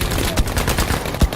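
An MG42 machine gun fires in Battlefield V, rapid loud bursts of gunfire in a fast rattling rhythm with a couple of heavier thumping reports standing out, close and dense throughout.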